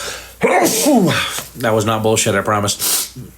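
A sharp sneeze bursts out, followed right away by a person speaking a short sentence.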